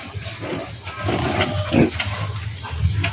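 Young pigs around sixty days old on a Philippine farm, grunting and squealing in low rough bursts, close by and moderately loud with a steady background hum.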